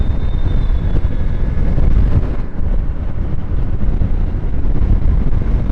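Heavy, steady wind buffeting roars across a GoPro microphone on a Hero Xpulse 200 4V motorcycle ridden at high speed, a dense low rumble with no pauses.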